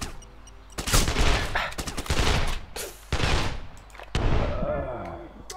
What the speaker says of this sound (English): I forgot how well they are shooting us